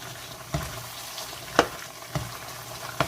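Garlic butter shrimp frying in a pan, with a steady sizzle and a few sharper crackles and stirring knocks spaced through the short stretch.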